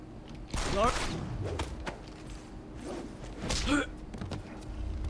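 Gunfire in the video game Deus Ex: Human Revolution, a few loud close shots with thuds and impacts, spaced across the moment, with a voice speaking over the action.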